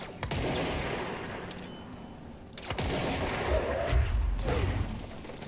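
Gunfire in the video game Control: a few sharp, moderately loud shots spaced across the stretch, each followed by a booming low rumble, within a dim ambient game background.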